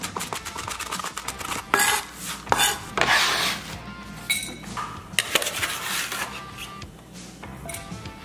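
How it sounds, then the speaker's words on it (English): A knife roughly chopping crispy bacon on a cutting board, with repeated close clicks and thuds against the board in uneven bursts, at moderate loudness and with no talking. "Got our crispy bacon. I'm just gonna rough chop this up."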